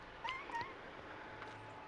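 A game cat in PowerWash Simulator 2 gives a couple of short, faint meows as it is petted, over a low steady background hum.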